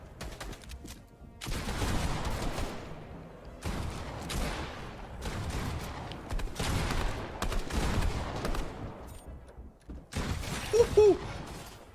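Shotgun blasts and gunfire from the video game Fortnite come in repeated loud bursts over a dense, continuous background of battle noise, close and heavy, with no talking.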